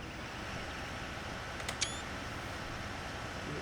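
A single camera shutter click goes off in Bus Simulator 21, a quick sharp snap with a brief bright ring, set against a quiet steady ambient hiss.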